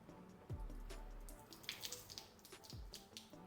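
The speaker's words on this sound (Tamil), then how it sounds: "இப்போ அம்ப்ரெல்லா எப்படி இருக்குது, நான் மேலே தண்ணி ஊற்றுறேன்" Water poured over a magic umbrella that shows flower patterns when wet, a soft splashing and trickling with scattered drips, close and quiet, no talking.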